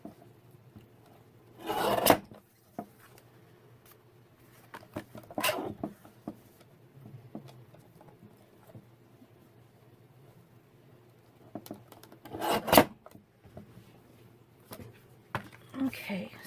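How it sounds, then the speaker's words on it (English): Scissors trimming away excess white material poking out of a quilted paper craft project, a few short dry snips and rasps spaced between quiet pauses, close up. "let me just trim this white that's poking out off"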